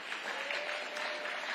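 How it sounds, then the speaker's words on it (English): An audience at a political speech breaks into brief, steady applause, a dense wash of clapping that fills the short moment without any talking. "Yeah, clap it up."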